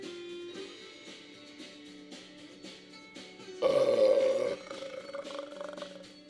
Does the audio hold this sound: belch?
yes